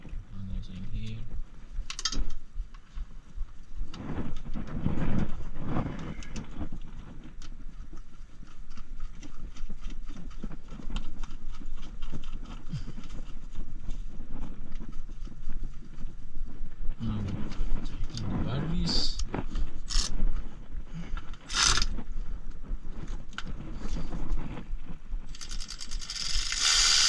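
A ratchet works on the battery terminal nuts of a Volvo VNL760 truck in bursts of rapid clicking and metal clatter, close up, with someone talking between the bursts.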